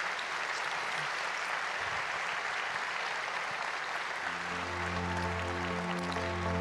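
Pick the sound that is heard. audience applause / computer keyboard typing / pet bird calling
audience applause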